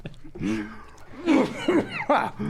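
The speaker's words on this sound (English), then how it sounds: "He felt the cough coming." A few short, throaty coughs burst out close by, mixed with breathy chuckling sounds.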